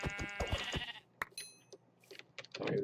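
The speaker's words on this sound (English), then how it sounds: "Okay, let's kill these sheep." Minecraft sheep bleat in short, wavering cries near the start, followed by a sharp hit and scattered quieter game sounds.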